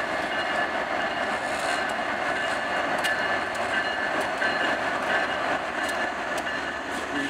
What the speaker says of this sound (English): Pacific 5252 westbound out of Chicago, auto rack train